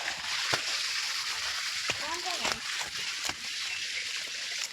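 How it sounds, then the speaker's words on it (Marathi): Water splashing and dripping during a bus ride between Kharepatan and Devgad, a steady broadband wash with a few sharper splats and brief chirpy squeaks, loud and continuous throughout. "पडतंय पाणी पाणी पडतंय."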